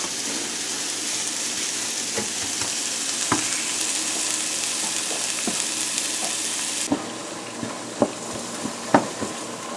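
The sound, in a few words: sautéing and stirring risotto in a pan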